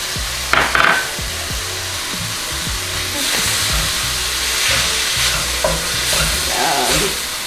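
Lean ground beef sizzles steadily in a pan while a utensil chops and scrapes at it, with several close knocks and clatters early on, then a continuous loud frying hiss and occasional stirring scrapes; no one speaks.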